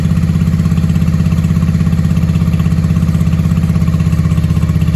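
A 1995 Honda Shadow VLX 600 V-twin motorcycle engine runs at a steady idle, loud and close, with an even rapid pulsing thump throughout.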